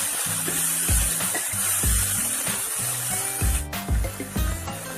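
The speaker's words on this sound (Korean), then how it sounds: "어느 정도 익으면 준비한 물을 아까 200ml 준비했는데 이게 100ml만 먼저 부어줍니다" Water poured into a hot pan of sautéed, translucent onions while making braised potatoes, giving a steady loud hiss and sizzle throughout with some clattering of the pan.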